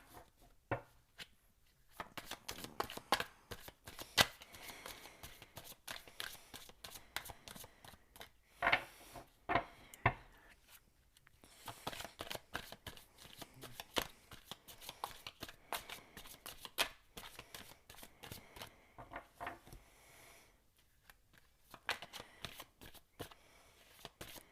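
A deck of tarot cards is shuffled at length, giving faint, close, irregular riffling and slapping sounds that continue with only brief pauses.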